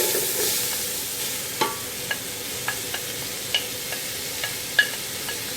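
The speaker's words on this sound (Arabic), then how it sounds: "وحقلب لغاية البصل ما يتغير لونه شوية كده" Onions frying in vegetable ghee on a floor gas burner for Saudi zurbian rice, an even sizzle punctuated by regular light clicks of a spoon stirring against the pan.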